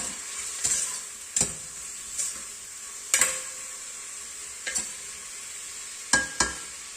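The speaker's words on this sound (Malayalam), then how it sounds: "ഉള്ളി നന്നായി വഴറ്റുക." Onions sautéing in a pan give a steady sizzle, broken every second or so by sharp scrapes and clinks of stirring, with no voices.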